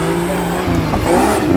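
An off-road 4x4 race car sweeps past on a dirt circuit at a national championship final in Yogyakarta, its engine loud and close, with the pitch shifting as it goes by.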